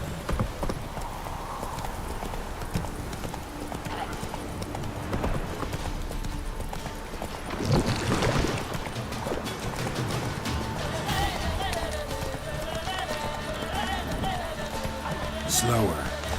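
Roach the horse gallops in The Witcher 3, a run of rhythmic hoofbeats on the ground under game music and effects, with a person talking over it.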